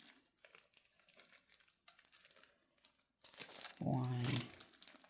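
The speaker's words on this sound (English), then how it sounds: "Just gonna take off this peel" Charred skin peeled off a hot fire-roasted eggplant for baigan choka, soft rustling and crinkling that builds to a louder crackly burst near the end, with quiet background noise.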